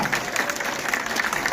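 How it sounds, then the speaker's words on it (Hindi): A seminar audience claps briefly in response to a presenter, a short burst of scattered, moderately faint clapping with uneven hits. "बताओगे ताली बजा के।"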